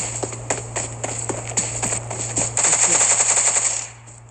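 Rapid automatic gunfire in PUBG Mobile, a string of crisp shots that builds into a dense, louder burst before cutting off, over a steady game hum.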